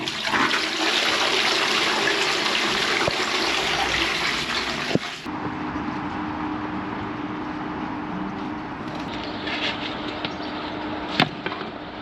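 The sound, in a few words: drain jetter flushing water through toilet pan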